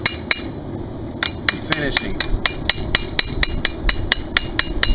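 Small, light ball peen hammer striking a horseshoe during blacksmith shaping, ringing metallic blows in a steady rapid rhythm after a few scattered strikes, close and loud over a low background rumble.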